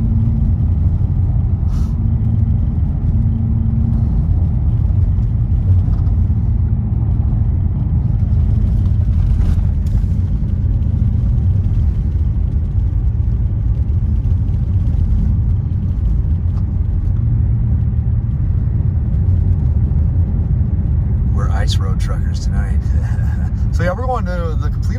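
A car drives at night along a snowy road near Big Bear Lake, California, on tires without metal studs; a loud, steady low engine and road rumble fills the whole stretch, with a voice talking over it.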